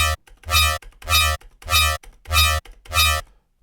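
A Serum synth patch with an LFO-modulated sub oscillator plays five evenly spaced, loud, buzzy notes, each swelling and cutting off in a steady pulse, with no voices.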